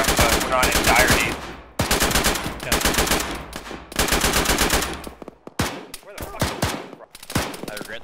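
Rapid automatic gunfire from a first-person shooter, loud bursts of rifle fire rattling continuously for several seconds, pausing, then resuming in shorter broken volleys and single shots near the end.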